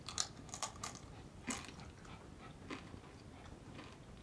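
Crisp, brittle crunches of NKD Nacho Cheese Doritos corn chips being chewed close up, a quick burst of bites at first, then a sharper crunch and a few softer chews trailing off.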